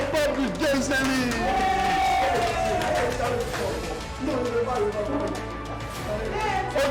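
Audience applause and cheering at a French reality-TV game show, a dense crowd roar with whoops and claps lasting throughout, with people talking over it.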